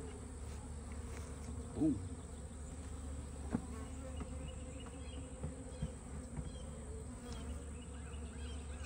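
Honey bees buzz in a dense, steady drone close around a beehive fitted with a honey super, with a brief exclamation from a person partway through.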